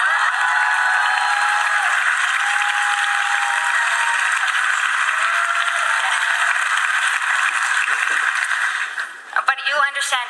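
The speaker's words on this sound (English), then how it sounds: "This is the part where you clap." Audience applause fills the room after a talk prompt, a steady dense wash of clapping from a crowd that holds evenly for about nine seconds before thinning into scattered claps and voices at the end.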